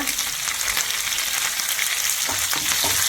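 Shallots sizzle and crackle steadily in hot oil with dried red chillies and curry leaves, a dense, close frying hiss running unbroken with a few brief stir-scrapes near the end.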